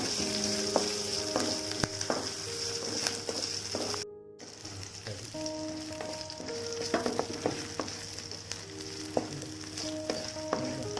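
Onions fry and sauté in a pan for potato gravy, a continuous bright sizzle with periodic scraping and clinking from stirring, steady and close, pausing for a split second midway.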